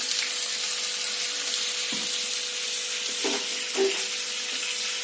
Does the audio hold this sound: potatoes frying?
yes